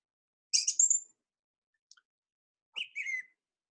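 Thrush-family songbird singing in two short bursts, a rich whistled phrase then a brief pause and a second sequence with clicky, squawking notes, clear and fairly close against silence.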